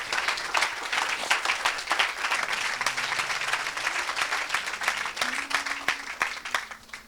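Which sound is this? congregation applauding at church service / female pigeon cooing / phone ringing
congregation applauding at church service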